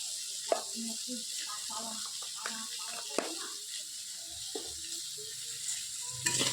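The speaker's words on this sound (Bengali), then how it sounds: "হলুদ দিয়ে নাড়িয়ে নিলাম" Turmeric being stirred into food in a frying pan, a soft sizzle with spoon scrapes and clinks, while a voice speaks quietly over it.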